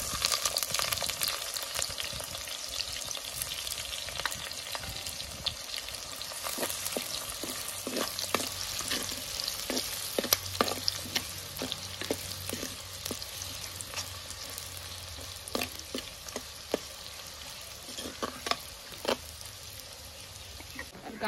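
Chopped onion sautéing in a pan with bay leaves and crushed garlic, a steady broadband sizzle running throughout with frequent scraping stir strokes of a spoon against the pan, close and fairly loud.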